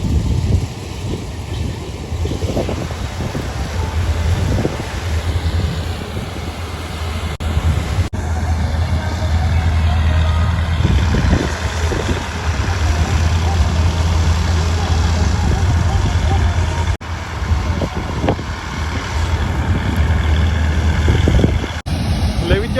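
A tractor engine idles and rumbles steadily during a wheat harvest, a loud, low drone that runs the whole time, with wind noise and people talking close by over it.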